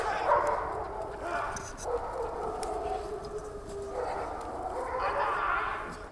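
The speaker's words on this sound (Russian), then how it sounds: "Им показали работу собак, несущих службу в полиции" Police service dogs at a canine training centre in Karachay-Cherkessia bark and yip in repeated bursts, moderately near, under a voice talking throughout.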